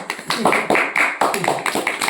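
Children clap together in a classroom, a run of uneven, fairly close claps in bursts, with voices mixed in among them.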